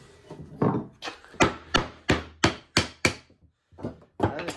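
Chisel driven by mallet blows chopping a mortise by hand in hard maple, with about eight sharp, evenly spaced woody strikes close by, a short pause, then two more hits.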